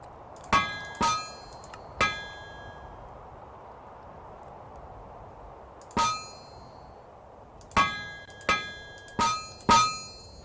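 Hammer strikes forging an aluminium shovel on an anvil in TerraFirmaCraft: bright metallic clangs with ringing tails, in short clusters of two or three hits separated by pauses.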